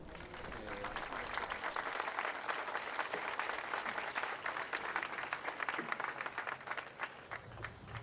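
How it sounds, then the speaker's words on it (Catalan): An audience applauds for honoured relatives at a village commemoration, a steady, fairly quiet wash of many hands clapping that lasts about eight seconds. "Un aplaudiment per a ells."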